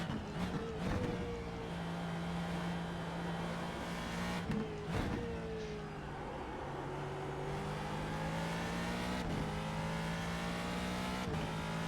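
Ford GT2 race cars in the iRacing sim at the Nürburgring GP circuit roar steadily, with several sharp passing surges and shifting engine pitch, loud and continuous without talk.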